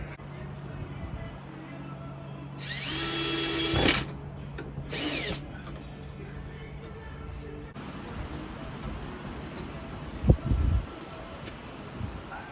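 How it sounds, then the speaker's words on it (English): Power drill driving screws into a deck ceiling panel, two short high whirring bursts close by, followed by quieter rustling and handling noise and a few low bumps. "A couple more screws in it, and we'll call that piece done."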